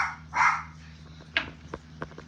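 A pet dog named Lily on a home porch gives one short bark, followed by a few faint yips and scratchy movement nearby.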